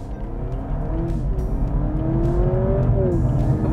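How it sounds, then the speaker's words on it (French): A new Honda Civic pulls away from a standing start on a test drive in Madrid, its engine note climbing steadily through the gears as a close, continuous rising whine under road noise. "Moi je ferais bien un petit départ arrêté."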